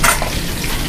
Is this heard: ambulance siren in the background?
no